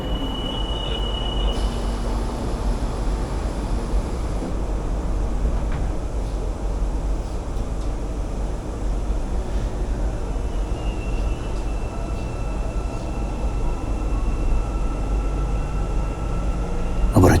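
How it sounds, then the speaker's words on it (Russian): An Almaty metro train pulls away and gathers speed, a steady rumble with rail hiss and thin whining tones rising over about seventeen seconds, heard from inside the carriage. "как плавно поезд трогается и ускоряется"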